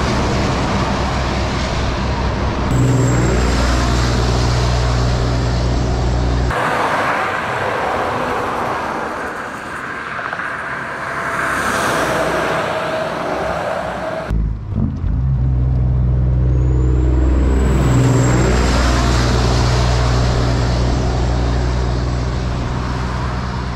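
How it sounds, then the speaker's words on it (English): Heavy truck and road traffic rumbling along Highway 219, a loud continuous roar of passing vehicles with swells as big rigs go by, steady throughout with no talk. "Continuing on in the mix with the heavy truck and traffic on 219"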